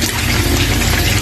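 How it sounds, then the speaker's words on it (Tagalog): A little water is poured into a hot cooking pan over lowered heat while frying fish and vegetables, a loud close gushing and sizzling rush throughout. "Lagyan natin ng konting tubig."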